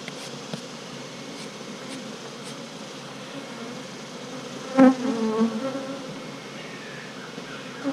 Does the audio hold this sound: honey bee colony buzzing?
yes